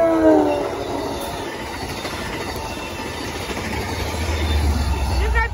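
Southbound Amtrak San Joaquins train led by CDTX cab car 6963 rolls past nearby toward Bakersfield, a steady loud rumble of wheels with a brief horn-like tone at the start.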